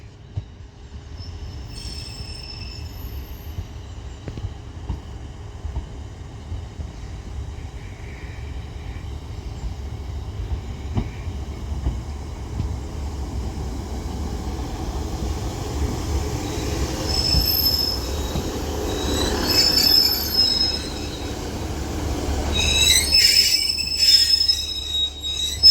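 Class 150 diesel train moving through Blackburn station on the Calder Valley line, a low rumble that builds over time, with wheels squealing and screeching on the rails as it gets nearer and louder toward the end.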